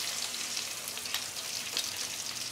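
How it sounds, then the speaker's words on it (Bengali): A splash of water added to spice paste frying in a pan brings a quiet, steady sizzle and hiss, close and continuous, with faint crackles and no voices. "হালকা একটু পানি দিব, না হলে মশলাটা পুড়ে যেতে পারে।"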